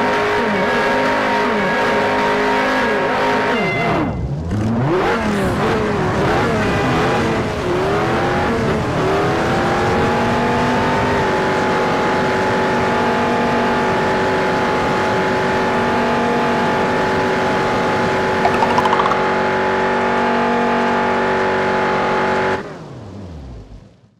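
Cars racing in Juiced, a loud sustained engine roar with pitch sweeping up through gear shifts, steady high revving, then fading out at the end.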